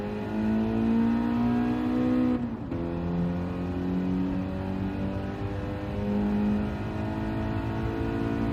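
Race car engine in Gran Turismo 7 droning steadily at high revs through a lap, with a brief dip and shift around a corner before the tone climbs and holds again, loud and continuous.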